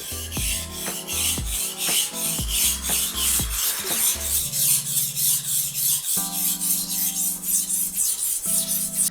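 A beef knife is pushed back and forth across a whetstone, a steady, loud rhythmic rasp of roughly two strokes per second, close up and with no voice over it.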